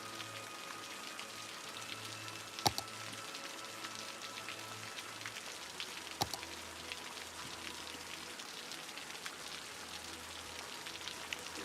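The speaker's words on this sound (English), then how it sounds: "You like the rain sound, dude?" Rain falls in a city-building video game as a soft, steady patter, quiet and continuous, with two sharp clicks breaking through.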